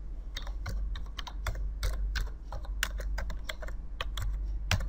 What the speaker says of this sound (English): and then type your text